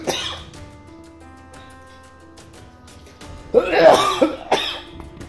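A doctor with a worsening respiratory illness, isolated in a hospital, coughs close and loud. A short cough comes at the start, then a harsh cluster of several coughs follows after a quieter stretch.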